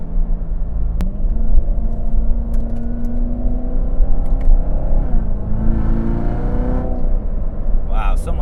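A Corvette C7 Z06 V8 engine pulling hard under acceleration, a loud, close low rumble rising in pitch with a quick gear shift partway through, heard from inside the car with a person talking over it.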